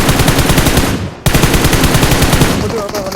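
Rapid automatic gunfire in the mobile battle royale game BGMI, loud and close, a fast rhythmic stream of shots broken by a brief pause before resuming.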